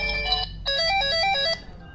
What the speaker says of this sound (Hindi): इसके अंदर 3-4 रिंगटोन्स हैं